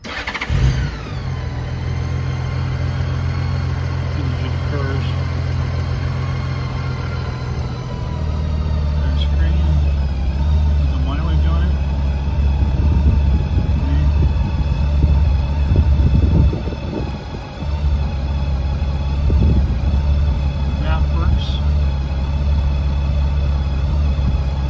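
A burgundy motorcycle starts up and settles into a steady, low idle. The engine note swells a little midway and runs continuously close by, with background noise layered over it.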